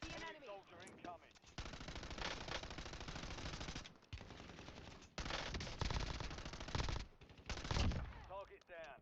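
Gunfire in a first-person shooter video game comes in long rapid automatic bursts separated by brief gaps, loud and close, with short stretches of talk at the start and end.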